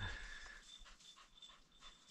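A dog pants in quick, rhythmic breaths, close and fairly quiet, out on a snowy mountain in Washington state during a splitboarding trip, with a faint whine of wind or gear behind it.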